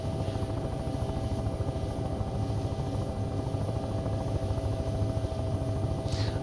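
Simulated helicopter in the game Take on Helicopters, its rotor chopping in a fast, steady rhythm over a constant engine whine, loud and close throughout with no talking.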